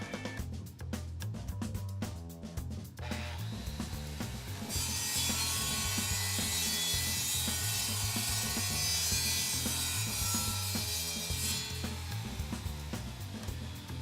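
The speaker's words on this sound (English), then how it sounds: "turn on the saw, and make the cut." A panel saw cuts through wood with a steady, loud mechanical whir. The tone brightens into a harsher high-pitched cutting noise partway through, and continues without speech.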